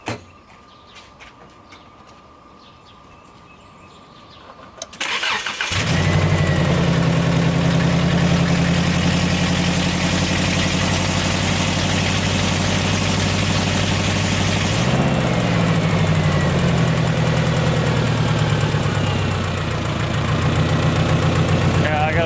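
A Subaru car engine, driven home with no belt and fitted with a newly replaced crank pulley, cranks and starts after a few quiet seconds. It then settles into a loud, steady, close idle that lasts to the end.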